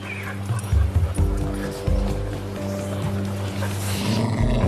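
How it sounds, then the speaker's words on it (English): At a Hong Kong dog cafe, a dog lets out a low, rumbling growl that rises and falls in pulses, loud and close over a faint background. "She's growling."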